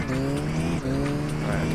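A Mini driven in The Italian Job: L.A. Heist on PS2 (2003), its engine holding a steady, loud drone with tyres squealing as it corners, continuous with a brief dip midway.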